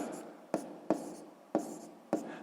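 A pen scratches steadily on paper while someone writes out a sixth-grade math exercise, close up, with several sharp taps as the pen lands and no talk over it.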